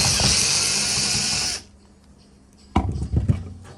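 Screw being removed from a graphics card in a desktop computer, a loud continuous whirring drill-like buzz that cuts off, then a few sharp close clicks and rattles of hardware being handled.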